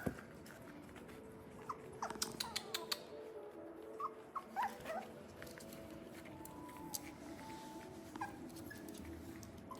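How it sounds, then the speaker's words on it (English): Schnauzer puppies play in a playpen, with soft whimpers, small yelps and the patter of paws scattered through a quiet indoor background and no talking. "There's lots of play going on here in our puppy playpen this morning."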